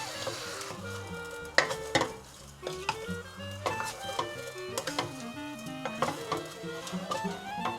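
Pork pieces for Filipino humba with garlic powder render their fat in a pan, giving a steady sizzle broken by loud clinks and scrapes of stirring and utensils against the pan, with tonal background music underneath.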